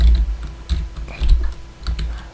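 Code being entered on a computer keyboard: close, uneven bursts of key clicks and thumps with short pauses between runs, fairly loud and with no voices.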